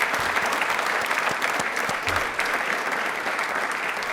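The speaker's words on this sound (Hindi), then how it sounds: "एक बार तालियां डॉक्टर साहब के लिए जोरदार वाली नीचे।" Audience applause for a doctor at a Rajasthani TV quiz show, a steady wash of clapping filling the whole stretch at moderate loudness, with no talk over it.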